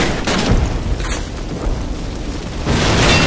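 A flak panzer blows up in the World War II shooter Call of Duty, giving rumbling explosive bursts at the start and again near the end, with a lingering roar in between.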